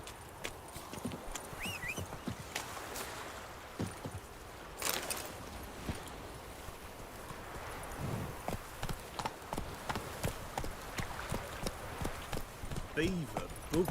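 Roach, Geralt's horse in The Witcher 3, gallops with a fast steady clip-clop of hooves close by, under a rider's spoken lines and background game sound.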